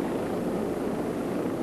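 Helicopter hovering and manoeuvring near high-voltage power line pylons during live-line work, a steady dense rotor and engine roar, loud and unbroken, with no talk.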